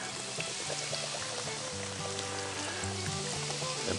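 Beer poured over cabbage in a hot cast iron pan gives a steady, close splashing pour with loud sizzling and crackling throughout.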